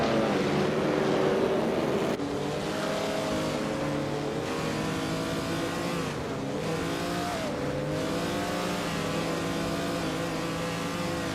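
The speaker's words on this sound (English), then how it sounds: "Siraranbot is running an Auto Union Type D, a powerful early 1930s racing car" An early 1930s Auto Union Type D race car in a racing game, its engine droning and rising in pitch through several gear changes, steady and continuous with no voices.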